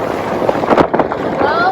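A motorboat on plane in the Gulf hums steadily over rushing water and wind buffeting the microphone, with short bursts of splashing.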